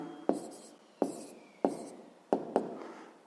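A pen strikes and scratches across paper in five distinct taps and short strokes, close and quiet, with gaps of near silence between them while numbers are jotted down for a sixth-grade math exercise.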